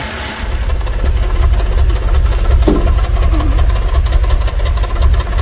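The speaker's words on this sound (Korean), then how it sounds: "배기구 소리를 잠깐 들려드리겠습니다." Exhaust from an idling BMW 528i with a rough-idle fault chugs close by, low and loud, with a slightly irregular, pulsing rumble.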